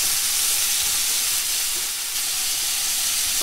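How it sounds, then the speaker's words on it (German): Chicken pieces searing in a pan for a curry dish, giving a steady, loud, even hiss of fat sizzling throughout with no talk. "So, das Fleisch ist schon schön angebraten."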